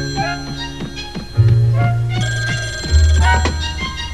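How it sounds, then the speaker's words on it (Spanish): A telephone rings loudly in a retro 1984 Muppet Babies cartoon, giving two bright, jangling bell rings with a short pause between them and no talking. "¡Está sonando el teléfono!"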